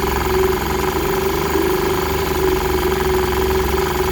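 A 1946 Elgin 1.25 hp outboard motor idles in a test tank, a loud, steady, buzzing drone that stays even throughout with a rough, throbbing texture.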